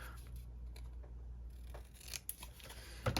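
Scissors snip small paper pieces off a handmade honey bee journal page, a few crisp close cuts with soft rustling between them and a sharper pair of snips at the end.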